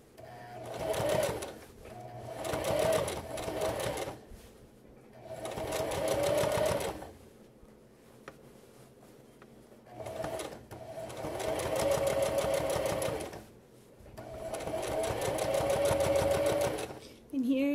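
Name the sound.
sewing machine stitching and backstitching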